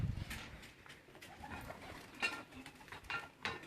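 Flying pigeons gathered in a cage coo softly and steadily nearby, with a few brief rustles and flutters mixed in.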